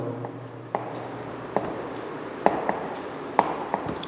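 Chalk or marker writing on a board during a physics lecture on rotational motion and moment of inertia, heard as a few sharp taps and scratchy strokes spaced across a steady room hum, fairly close.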